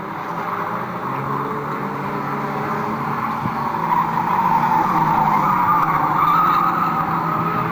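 Stock rod race cars sliding sideways through a corner at a trailer race meeting on an oval raceway, a steady loud roar of engines with tire scrub building slightly toward the end, no talk.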